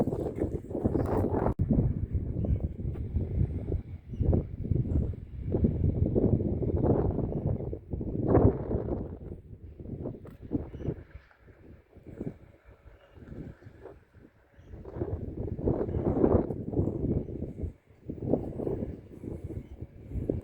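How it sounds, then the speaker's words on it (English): Strong wind buffets the microphone outdoors near the John o' Groats ferry in Scotland, roaring in uneven gusts with short lulls, loud and close throughout. "it's pretty breezy"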